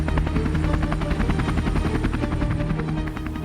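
Indian-built LCH light combat attack helicopter, a roughly six-ton indigenous attack aircraft, heard as a loud, close, steady rotor and turbine roar with rapid blade chop throughout, no voices.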